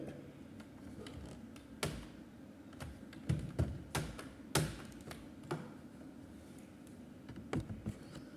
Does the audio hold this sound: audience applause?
no